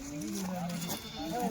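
Goats for sale at a livestock market bleat in short, wavering calls, two clear bleats close by over steady crowd and voice noise.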